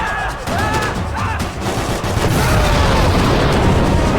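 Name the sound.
explosions and gunfire in a video game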